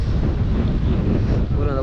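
Strong wind gusting on a hill trek in Suryanalli, Theni, a dense roaring rush buffeting the microphone steadily throughout, loud and close with no pause.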